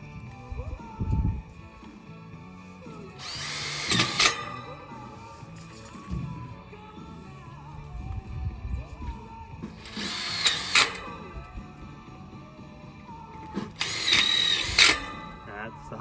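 A power drill drives screws into a pool gate latch bracket on a black flat top pool gate during Magna Latch installation, in three loud bursts of one to two seconds each, with quieter handling noise between them.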